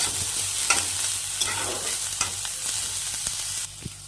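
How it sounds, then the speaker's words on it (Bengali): Half a spoon each of garlic paste and ginger paste frying in hot oil, a close crackling sizzle with scraping stir strokes and a few sharp spatula knocks, no talking. "এর মধ্যে এখন দিয়ে দেব হাফ চামচ রসুন বাটা আর হাফ চামচ আদা বাটা শুধু এটুকুই ভালো করে একটু কষিয়ে নিতে হবে"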